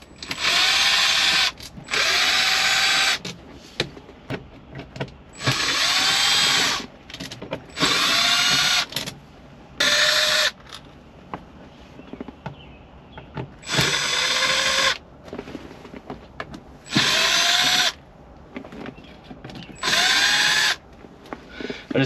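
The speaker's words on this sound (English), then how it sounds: "I have my handheld screwdriver here. So what I'm going to do is just take it apart, get the dash pad off of it." A handheld power screwdriver whirs in repeated bursts of a second or two, each winding up and stopping, as screws come out of a brittle dash pad in a Cougar, with ratcheting clicks and handling noise between runs.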